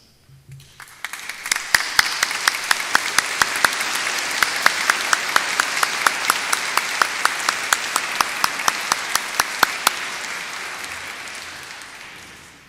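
A commencement crowd at Ancilla College applauds faculty and staff: sustained, even clapping across a large space, with sharp nearby claps standing out over the steady wash until it tapers off.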